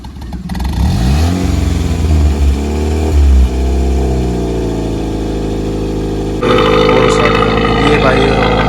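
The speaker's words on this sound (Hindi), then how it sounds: "भाई अब जैसे भाई गाड़ी स्टार्ट करेंगे" Hyundai Accent engine with a Borla single-pipe exhaust, started and revved hard, loud and close throughout, with rising and falling revs and a sharper, brighter blast near the end.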